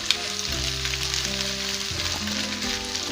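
Eggs sizzle in hot oil in a pan during vegetable noodle cooking, a steady close crackling hiss with a low hum underneath and no speech.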